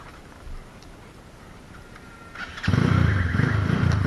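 A 250cc motorcycle engine on a town street in Mandeville, Jamaica, idles faintly and then surges loud and near at about 2.7 seconds, holding a steady, rough revving drone to the end.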